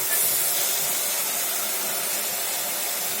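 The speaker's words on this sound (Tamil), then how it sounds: "இப்போ எல்லா காயும் சேர்த்துட்டு நல்லா அதை கொஞ்சம் நேரம் எண்ணெயில் வதக்கி விட்டுக்கலாம்." Vegetables sautéing in oil for sambar rice give a steady, loud sizzling hiss that holds throughout without pause.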